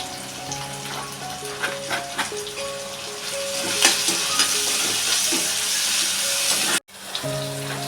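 Tomato and asafoetida frying in a pan, a steady close hiss of sizzling with scattered light clinks and scrapes of stirring, a brief cut near the end, and no talk.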